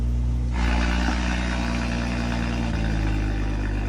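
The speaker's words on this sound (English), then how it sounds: "I've been modding this car, and I put an exhaust, a valve exhaust on it. I put a downpipe." A modified car with a valve exhaust and downpipe idles with a loud, deep, steady rumble up close, the tone shifting slightly partway through; no talk.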